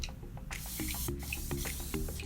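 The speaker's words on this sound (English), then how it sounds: "holding your mist about 6 inches away from your face and spray it all around in a circular motion" Several short, close hissing bursts of a fine spray come in quick succession, each a soft spritz with brief pauses between.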